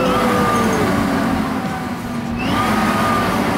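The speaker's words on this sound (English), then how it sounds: "Oh, it's an electric motor." An electric car drives uphill under motor power, giving a loud continuous drive whine with tonal lines that sag and then climb again over a steady rush of road noise.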